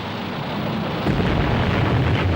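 A large explosion aboard the aircraft carrier Lexington, a deep sustained rumbling roar that swells louder around the midpoint and keeps churning, with no voices.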